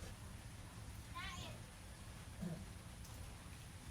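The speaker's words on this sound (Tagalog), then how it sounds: "At saka itong ulan." Steady rain falling outside a house, a soft continuous hiss of drops at a distance with a faint voice briefly in the background.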